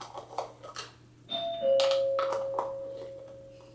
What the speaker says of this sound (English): Yeah, doorbell.